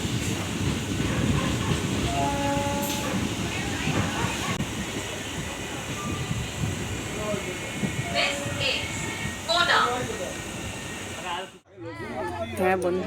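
A train rolls along, heard from inside a carriage, with a steady low rumble and rattle, occasional squeals and clicks from the wheels, and a sudden brief drop in noise near the end, followed by a voice.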